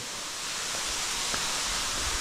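Steady broadband rush of a waterfall heard from behind the falling water, near a large rock overhang in a freshwater swimming spot in central Istria; continuous, loud and even, with no voices.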